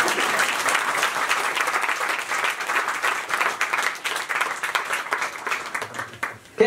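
A church congregation at a sermon in Nepal claps together in dense, steady applause that fills the whole stretch, tapering briefly near the end before a final burst.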